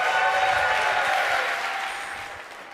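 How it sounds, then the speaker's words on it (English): Sustained applause from an audience at a live Age of Empires 2 esports offline event, a dense broadband clapping that stays strong and then gradually fades toward the end, with no other sounds over it. "round of applause"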